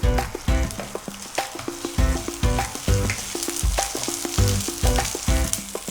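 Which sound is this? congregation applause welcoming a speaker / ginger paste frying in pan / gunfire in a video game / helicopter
ginger paste frying in pan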